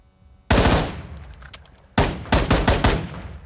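Unsuppressed SIG MCX Rattler (M13B) rifle in Call of Duty firing full-auto: two loud, close bursts of rapid shots, the first around 1.5 seconds long and the second longer, separated by a short quiet gap and with no talking.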